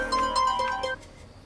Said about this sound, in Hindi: मैं ना फोन करने जा रही हूँ, लगा रही हूँ मैं फोन